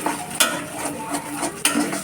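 Egg being stirred briskly in a pan during home cooking, a utensil scraping and clattering with two sharp knocks over a soft sizzle, close and alone with no talking.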